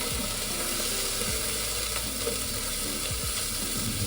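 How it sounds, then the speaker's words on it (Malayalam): Ginger-garlic paste and two dried red chillies spit and sizzle in hot oil, a dense, continuous crackle with small pops throughout, close and steady with no voices. "ഇഞ്ചി വെളുത്തുള്ളി പേസ്റ്റ് ഇട്ടപ്പോൾ ചെറുതായിട്ടൊന്ന് പൊട്ടിത്തെറിച്ചിരുന്നു"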